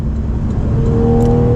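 Porsche 991.1 Carrera 911 engine revving, a steady loud hum with a rising tonal whine toward the end, heard from close up with no talking.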